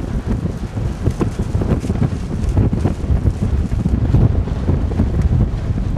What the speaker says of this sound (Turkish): Oldukça rüzgarlı bir hava var.